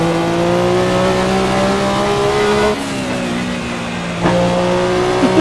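Car engine revving hard in a PS4 racing simulator game with a manual transmission, a sustained droning engine tone that shifts pitch, with a couple of sharp impact-like breaks as the car hits something.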